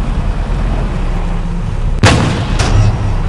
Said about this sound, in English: I haven't played with the machine gun too much, even though I go against it a lot.